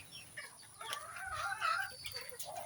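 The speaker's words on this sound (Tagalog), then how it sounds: "Tingnan natin yung ating bagong pisang inahin." A mother hen with newly hatched chicks gives soft, repeated clucks alongside faint chick peeps, close by and moderately quiet, with no talking.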